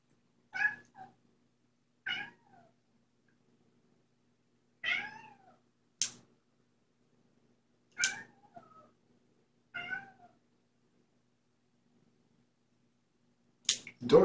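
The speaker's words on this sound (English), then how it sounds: "Why are you meowing?" A cat meows repeatedly, short cries spaced a couple of seconds apart, close by in a quiet room, with a few sharp clicks between them.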